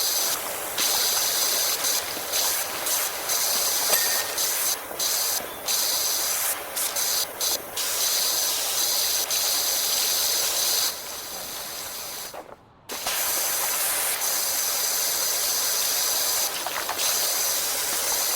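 A pressure washer in the video game Powerwash Simulator sprays a climbing frame, producing a loud, steady hiss that runs nearly the whole time, cut by several brief gaps and one clear pause near the end.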